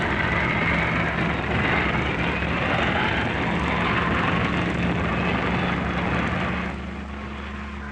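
RAF aerobatic team aircraft flying in formation, a steady engine drone with a faint rising whine, fading a little near the end, no voices.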